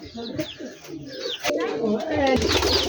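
Rajshahi Giribaz pigeons coo in low, repeated murmurs close by, mixed with scattered chirps and a voice talking over them.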